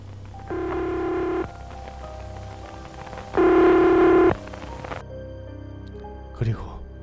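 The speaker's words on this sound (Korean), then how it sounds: "거기에서 돈을 놓고 떨리는 손가락으로 신중히 번호를 눌렸습니다." Keys pressed on a public payphone outside a shop produce two long, steady electronic tones separated by a pause, ending with a brief click, all fairly loud and close.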